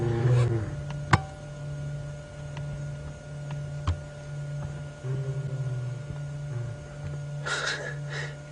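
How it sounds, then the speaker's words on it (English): Wild animal, likely a big cat, roaring during a live safari drive: low droning calls rise and fall in a steady hum, with a few sharp clicks and brief noise bursts, no talking. "The other one's starting to roar a little louder."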